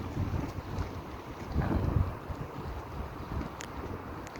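Wind gusting outdoors by the sea near Lagonisi, a broad rumbling buffet against the microphone that swells midway and then eases, with faint lapping water underneath and no talk.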